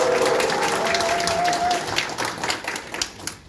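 A crowd at a South Korean National Assembly election candidate's event in Hwaseong claps and cheers, loud and dense at first, then thinning into scattered individual claps as it dies away.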